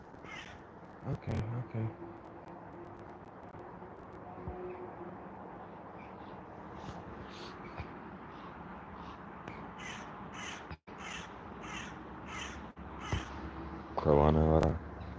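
A crow caws repeatedly from a distance in an outdoor garden, a string of short calls spread through the clip, while a person speaks briefly nearby.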